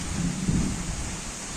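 Low thunder rumbles softly under a steady hiss of rain in open paddy fields. One faint swell comes early, then fades back into the rain noise.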